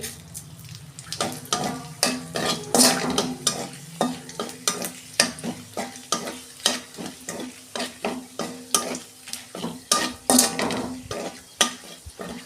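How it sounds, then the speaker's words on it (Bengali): Whole cumin seeds, a dried chilli and a bay leaf sizzle in hot oil in a pan, under a steady rhythmic scrape of a spoon stirring. The stirring is close and moderately loud, with no talking. "ফোড়নটা আমি একটু ভেজে নেব।"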